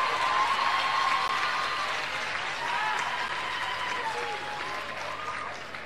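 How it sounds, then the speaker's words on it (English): An audience at a 2018 valedictorian graduation speech breaks into sustained applause that fills the room, fading slightly toward the end. "give myself a round of applause"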